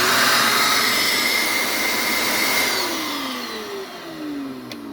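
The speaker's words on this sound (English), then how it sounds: "Got these mini shop vacs" Small wall-hung mini shop vacuums suck up sawdust from a Vevor 3018 Pro mini CNC router, a loud steady broadband whine and roar running throughout, easing slightly toward the end with some sliding tonal shifts.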